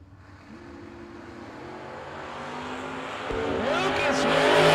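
Drag race cars launch side by side, an Oldsmobile and a wheel-standing Mustang at a no-box drag race, engines building to a loud rising roar under an announcer's voice.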